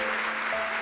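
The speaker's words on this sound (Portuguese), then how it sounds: "Pode dar uma salva de palmas para o meu chefe aí, gente?" An audience applauds the speaker's boss, a brief, dense patter of clapping that fills the moment steadily, with no voices over it.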